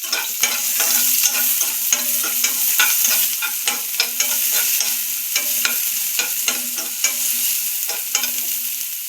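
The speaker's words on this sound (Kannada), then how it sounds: "ಇಷ್ಟಾದ್ಮೇಲೆ ಈರುಳ್ಳಿ ಹಾಕ್ತಾಯಿದ್ದೀನಿ, 2 ಮೀಡಿಯಮ್ ಸೈಜು" Two medium onions frying with whole spices in a pan for a hotel-style paneer curry, a bright steady sizzle punctuated by rapid, regular scrapes and taps of a spatula stirring close up.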